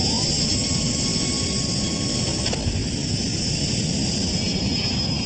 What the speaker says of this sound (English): At 11:42, the plane takes off.